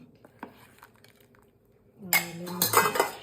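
Metal cooking vessels clatter and clink as they are set down and arranged, starting with a few faint knocks and then breaking into a loud, close burst of ringing clanks.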